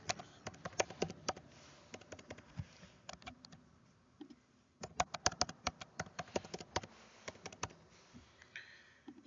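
A password typed on a computer keyboard, with bursts of quick close key clicks separated by short pauses.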